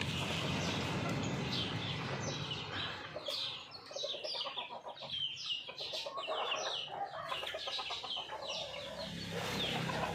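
A flock of chickens crowds around food, clucking densely and continuously at close range, with overlapping calls and scratchy pecking throughout.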